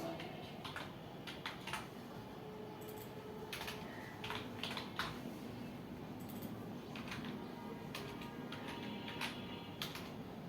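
Computer keyboard typing during a mail merge task, steady clusters of key taps with brief pauses, fairly close and quiet, with no speech.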